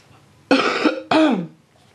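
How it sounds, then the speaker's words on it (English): Two sharp, close coughs from an adult, with a short gap between them, loud and harsh, each with a rough throaty tail, alone in a quiet room. "Oh, that cough."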